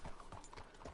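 Faint, quick hoofbeats from King David, a horse in a western video game, a brief burst of soft clopping steps under a muffled ambient background.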